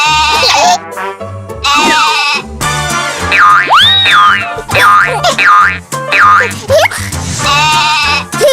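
A farm sheep bleats in repeated wavering cries, loud and close, mixed with cartoonish springy boing effects and busy playful music.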